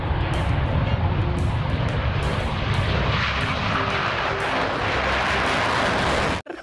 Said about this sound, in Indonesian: Wih, ada mobil. Pesawat tempur militer.